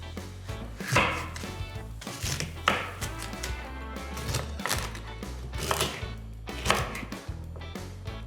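A knife chops fennel on a board for a hearty trout soup, a series of close, fairly even thuds repeating at a steady rhythm for the whole stretch, with no talking.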